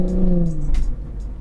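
A BMW M240i xDrive with a B58 engine on an XHP Stage 3 tune revs and falls in pitch through a single shift, loud and close, ending with a few short crackles from the exhaust.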